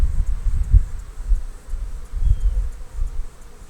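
Honey bees hum low and steady from an opened hive being inspected, with a soft continuous buzz and some light rustling close to the microphone.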